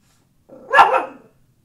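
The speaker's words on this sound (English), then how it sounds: "there's a dog outside." A single sharp bark from a dog outside, brief and fairly close, standing alone against near silence.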